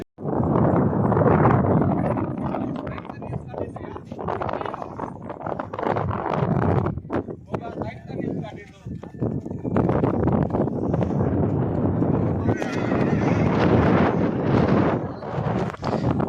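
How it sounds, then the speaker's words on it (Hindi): Horses arrive at an outdoor gathering for a rewal race, with hooves clopping and thudding through heavy wind noise on the microphone, a continuous busy rumble close to the recorder. "और भी घोड़े आ रहे हैं।"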